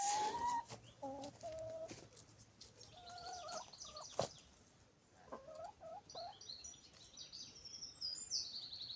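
Chickens clucking and calling intermittently at a distance in an orchard, with a sharp knock midway and birds chirping faintly in the background.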